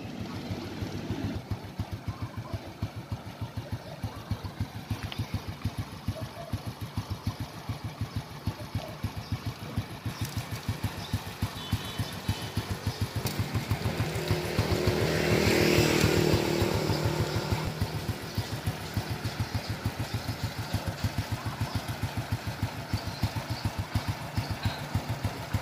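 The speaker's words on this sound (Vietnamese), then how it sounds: "Mình nổ máy đâu cho anh em nghe luôn ạ." A 2005 Kawasaki ZX motorcycle engine idling close by, a smooth steady throbbing rumble that swells briefly in the middle before settling back to an even idle.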